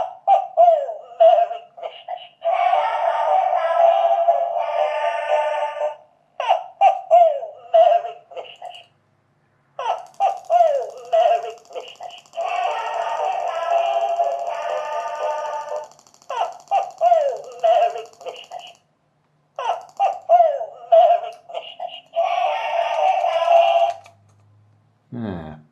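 Animatronic Santa toy fitted with fresh batteries, laughing in repeated bursts of bright, tinny, synthetic ho-ho chuckles separated by short pauses, loud and close, retriggering itself several times before a low thump at the end.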